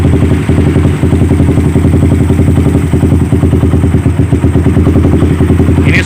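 A Suzuki Satria FU motorcycle engine, bored up to 200cc and fitted with a BRT SF28 carburetor, runs steadily at a loud, close idle with a rapid, even clattering pulse throughout, a slight dip in the first second.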